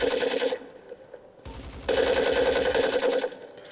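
Rapid automatic gunfire from blind shots in a video game, heard as dense rattling bursts. A short burst is followed by a pause, then a longer, louder volley, with no talking.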